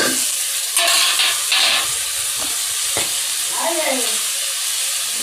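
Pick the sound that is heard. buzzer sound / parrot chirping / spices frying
spices frying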